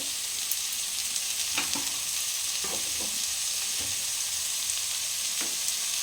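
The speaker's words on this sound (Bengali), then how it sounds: "তো বন্ধুরা এই দেখুন আমি হালকা হালকাভাবে এটা ভেজে নেব।" Sabudana khichuri ingredients sizzle steadily in a pan, a constant bright frying hiss broken by several sharp scraping stirs of a spoon against the metal.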